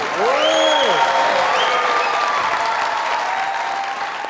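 A crowd at a stage show greets an introduced guest with dense, sustained applause, loud and even throughout, with a brief voice or whistle rising over it at the start.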